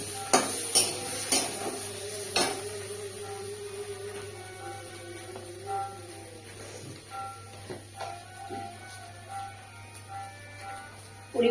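Pre-fried taro pieces sizzling in a pan as they are stirred, spoon scrapes and clinks punctuating a steady frying hiss, close and moderately loud, with no talk.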